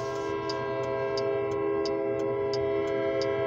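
Very short Western New York and Pennsylvania grain freight train heading south, its horn holding a steady blaring chord while wheels click rhythmically over rail joints, close and continuous.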